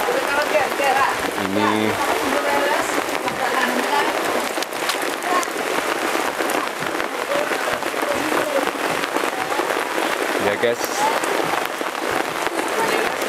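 Heavy rain falling outdoors during sago processing, a dense, loud, continuous hiss of drops with a few thumps, while someone talks briefly over it.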